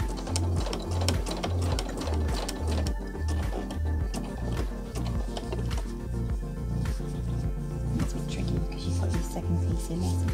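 A sewing machine stitches a curve on a PUL nappy cover, running in quick rhythmic bursts of mechanical chatter with short pauses between, up close, while someone talks over it.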